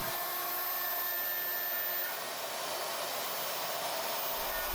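A Mostly Printed CNC router cutting aluminum at a 1.4 mm depth of cut with poor chip evacuation, producing a continuous loud, rushing whine and hiss that stays steady throughout.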